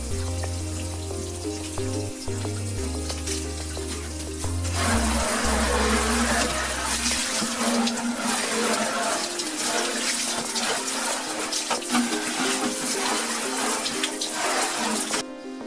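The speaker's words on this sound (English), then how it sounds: "Wash with water and dishwasher soap to remove fingerprints and grease." Tap water runs into a sink while washing a 1:5 scale RC car bodyshell with dish soap, starting as a low hum and then a louder splashing rush, steady and close.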